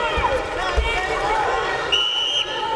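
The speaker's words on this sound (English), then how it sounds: "the whistle is the 10-second warning" A referee's whistle gives the ten-second warning in an MMA fight, one short shrill blast near the end of the clip, heard over arena crowd noise and commentary.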